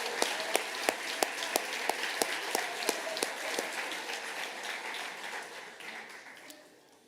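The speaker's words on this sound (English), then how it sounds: "Would you folks give them a round of applause" An audience at a high school awards ceremony applauds a group of award recipients. The dense, sustained clapping has sharp individual claps standing out near the start and gradually tapers off toward the end.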